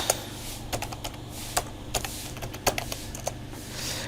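Fingers tap on a computer keyboard in scattered keystrokes, some sharp and distinct, others softer, with short pauses between bursts, close and alone over a faint low hum.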